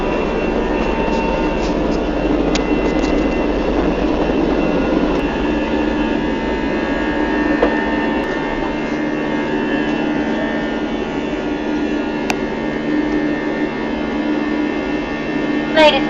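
Inside an airliner cabin in flight on a trip to the Canary Islands, a steady, loud engine roar and air rush fills everything evenly, with a faint hum and occasional small clicks and cabin noises.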